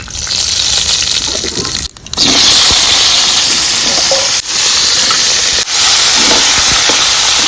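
Loud, steady sizzling hiss of black cumin (nigella) seeds hitting hot oil, with a few brief breaks in the spitting noise.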